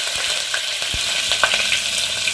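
Red chilies and curry leaves hit hot oil for a tadka tempering, giving a steady bright sizzle with small crackles and pops, close and fairly loud with no talking.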